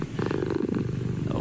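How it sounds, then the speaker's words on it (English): A cat purrs steadily up close in a garage, a continuous low rumbling vibration with no break across the brief moment. "It's the purr of a cat."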